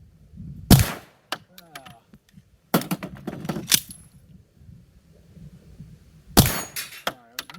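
Three sharp, loud pistol shots at a range during a firearm malfunction drill, widely spaced, each followed by clattering and handling noise, with quieter shuffling between.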